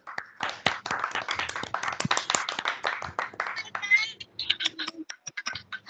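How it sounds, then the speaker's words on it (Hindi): Scattered, uneven hand clapping from a school assembly for a student on Hindi Diwas, individual claps sharp and close, thinning out toward the end with brief voices mixed in. "एक बार जोरदार तालियां हो जाए इनके लिए"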